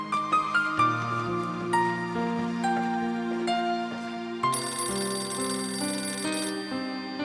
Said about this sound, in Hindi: आप चलिए, मैं देखता हूं किसका फोन है।